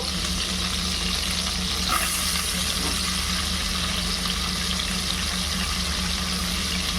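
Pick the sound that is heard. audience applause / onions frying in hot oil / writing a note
onions frying in hot oil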